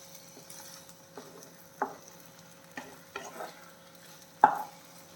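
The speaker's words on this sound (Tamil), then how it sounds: "இந்த மாதிரி மெதுவாக கிளறி விட்டுக்கோங்க" Gentle stirring of food in a pan over a medium flame, with soft scrapes and brief clinks spaced out, one sharper knock near the end, over a quiet background.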